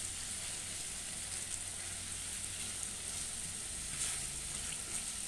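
Butter chicken pieces sizzle steadily in a hot pan as they are flipped, a continuous close hiss of frying fat with faint stirring sounds and no talk.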